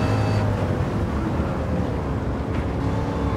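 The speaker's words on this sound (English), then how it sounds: "The engine actually sounds really cool when it's going full speed like that" A sports car engine in Gran Turismo 7 roars at full speed, a sustained loud steady drone with no talking.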